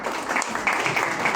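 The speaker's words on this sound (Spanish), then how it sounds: "le pido también un aplauso" Brief burst of audience applause at a Peruvian radio gathering, dense clapping at moderate level, short and continuous.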